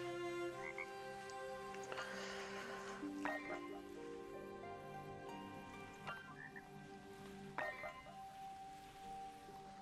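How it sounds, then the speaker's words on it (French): A frog croaks several times in the video game Wildmender, short bursts that repeat at intervals over layered ambient music and faint background sounds, fairly quiet overall. "Coucou grenouille."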